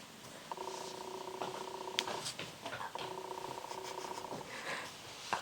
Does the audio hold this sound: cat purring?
yes